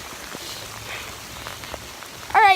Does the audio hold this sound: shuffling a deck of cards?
no